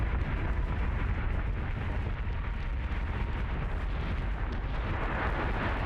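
Battlestar Galactica Deadlock space battle with warship weapons firing, a dense, continuous roar of heavy booming bursts layered together at steady loudness without pause.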